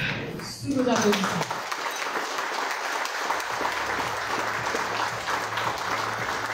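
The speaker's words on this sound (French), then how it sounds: "Sous vos applaudissements" Audience applause fills a stage ceremony where a professor is called up to present gifts, a steady, loud wash of clapping that swells after a brief voice and carries on densely to the end.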